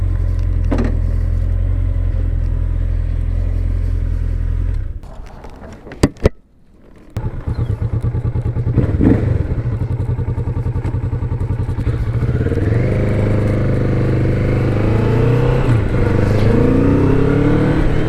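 Kawasaki Vulcan S 650 cruiser motorcycle on a test ride, its engine rumbling steadily and loud, a brief lull and a few thumps midway, then revving up with rising engine pitch toward the end.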